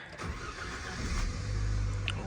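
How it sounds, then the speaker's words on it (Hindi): A car engine cranks and starts in frozen Ladakh in December, with a single crank followed by a low, steady idle that grows louder near the end, under a constant rumble of vehicle noise. "और अब मैं गाड़ी को स्टार्ट करता हूँ एक बार।"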